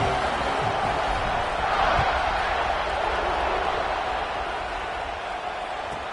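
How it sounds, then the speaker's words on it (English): Stadium crowd roar in a football video game, a steady loud wash of massed voices holding throughout, with a slight swell near the middle and easing a little toward the end. "this crowd is feeling themselves after that last drive"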